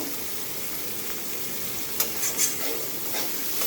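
Spice paste fries in a hot pan with a steady close sizzle and hiss. Brief stirring scrapes and clinks break through near the middle.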